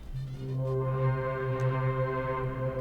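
A sustained synth pad holds layered chords with a steady, smooth drone and a few faint ticks, evenly loud throughout with no voices, standing in for a guitar-like part in a track.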